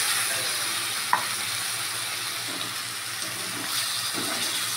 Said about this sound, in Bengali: এবার আমি জলটা দিয়ে দিচ্ছি, একটু ভালো করে গুলিয়ে নিচ্ছি